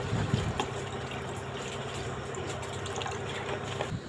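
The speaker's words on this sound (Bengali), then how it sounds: "দিয়ে দিচ্ছি জলটাকে আমি গরম করে নেব" Water poured into a steel pot sitting on an induction cooker, a continuous close splashing and gurgling stream with no voices.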